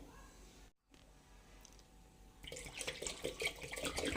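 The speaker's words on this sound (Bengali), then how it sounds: "আরও আমি জল দিয়ে দিলাম" Water pours into a pot of khichuri, starting after a quiet stretch and becoming a loud, close, steady splashing gush for the remaining seconds.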